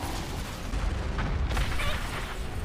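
Rocket blasts from the Nier Automata anime, episode one, rumble as dense low booms and bursts, with a sharper crack near the middle of a continuous loud battle mix.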